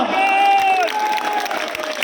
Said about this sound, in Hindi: गलत कह रहा हूं तो मना कर देना, सही कह रहा हूं तो ताली बजा देना